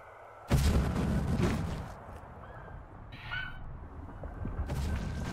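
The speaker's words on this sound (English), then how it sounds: "Nice shooting, Tex." Gunfire in the video game Journey to a Savage Planet: one loud, close blast with a rumbling tail fades into lower background noise, followed later by quieter game sounds.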